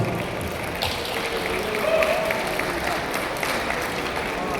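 Dense, steady audience applause fills a Dubai venue after a Polkadot NEVO 3.0 blockchain collaboration talk, holding at an even, moderate level throughout.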